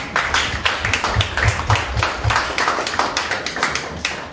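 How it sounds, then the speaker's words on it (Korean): A lecture audience gives a scattered round of applause to welcome the speaker, individual claps clearly separable in a loose, uneven rhythm at moderate volume, with no talking over it. "여러분 큰 박수 부탁드립니다"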